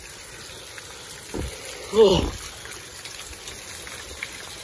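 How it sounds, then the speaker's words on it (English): Steady rain in a cold thunderstorm at about 30 degrees, a soft, even hiss with a short voice exclamation and a brief louder rustle near the middle. "Rain's picking up."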